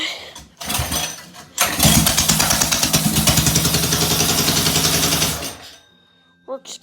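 Small go-kart engine cranks, catches and runs with a loud, close, rapid chugging pulse for several seconds, then cuts off abruptly; a voice speaks briefly before it starts.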